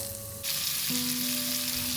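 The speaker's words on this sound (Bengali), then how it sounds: "এবার দিয়ে দিচ্ছি কেটে রাখা লাউ" Chopped bottle gourd drops into hot oil already seasoned with bay leaf and five-spice, and a quiet crackle jumps at once into a loud, steady sizzle close by.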